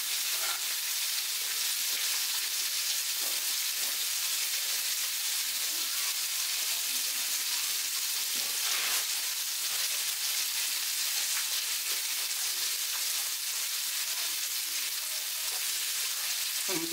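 Samgyupsal pork belly sizzling on a hot grill at home, a dense, continuous crackling fry that stays loud and even throughout with no voices.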